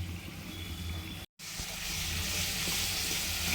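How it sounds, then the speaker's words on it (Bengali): Whole cumin, cardamom, dried red chillies and bay leaves spit and sizzle in hot mustard oil in a wok, a steady loud hiss that breaks off for a moment, then returns fuller and brighter. "এখানে গোটা জিরে, এলাচ আর শুকনো লঙ্কা, তেজপাতা সব ফোড়ন দিয়ে দিচ্ছি।"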